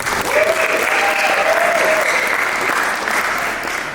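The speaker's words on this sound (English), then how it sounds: "Clap your hands for them." Wedding guests at a church ceremony give the newly married couple steady, dense, fairly loud applause for the whole stretch, with a faint tonal note drifting through.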